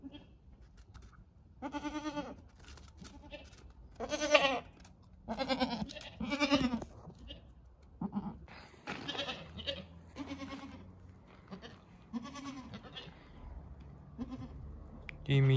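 A mother goat and her hungry kids bleat in a village yard, a run of close, loud, wavering calls repeating every second or two, with quieter background noise between them.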